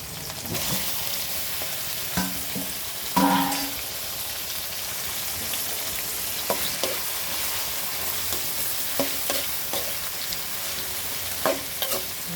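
Tomatoes sizzle in hot oil with fried onion and curry leaves while being stirred, a steady crackling fry broken by occasional scraping clinks of the spoon against the pan.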